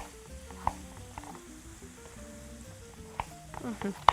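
Vegetables sizzle and crackle steadily in a frying pan with spices, a continuous close fry with a few sharper pops and stirring clicks, while faint tonal sounds run underneath.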